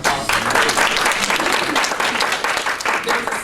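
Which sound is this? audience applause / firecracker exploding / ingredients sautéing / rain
audience applause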